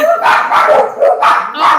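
A dog barks indoors in quick repeated bursts, about six close, loud yips and woofs in a rapid uneven rhythm.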